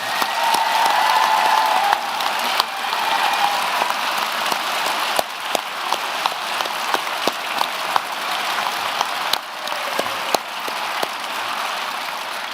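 Sustained applause fills a graduation ceremony hall, a dense crowd clapping steadily and loudly throughout with sharper individual claps standing out.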